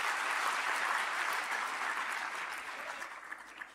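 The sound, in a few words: audience applause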